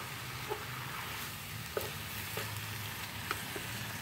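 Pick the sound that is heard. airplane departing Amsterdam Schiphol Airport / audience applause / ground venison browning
ground venison browning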